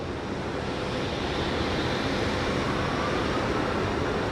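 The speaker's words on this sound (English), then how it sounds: "Spool up those engines." Aircraft engines spool up before takeoff at an airshow, a loud broad roar that holds steady and rises slightly, heard from nearby with no talking.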